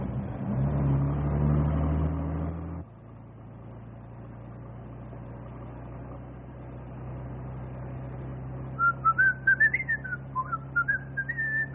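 A person whistles a short wavering tune near the end, over a low steady engine hum, after a louder engine rumble fades.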